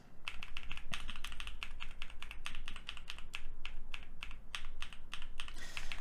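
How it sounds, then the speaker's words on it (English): Tactile mechanical keyboard switches, Durock T1 or Sunflower, clack in fast, fairly even typing. Dense, crisp keystrokes sound close up, with no talking over them. "But if I'm typing like this, it's not that obvious."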